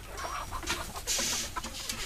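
Chickens cluck and squawk close by on a farm during a roundup as they are caught, with busy, irregular calls and flapping commotion and no clear talking.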